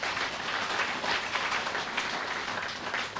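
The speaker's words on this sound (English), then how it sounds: "And I think we need to give them a clap if we can." Audience at a law society annual dinner breaking into steady applause, a dense wash of many hands clapping at moderate distance without a break.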